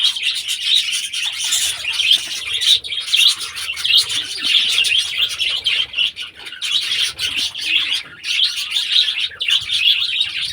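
Many small birds chirp and tweet continuously in a lively, overlapping chorus, close by, with occasional soft wing flutters.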